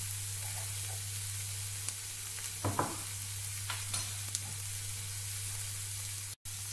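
Lamb casserole ingredients cook in a pan, a constant even sizzle under a low hum with a few soft clicks, cutting out briefly near the end.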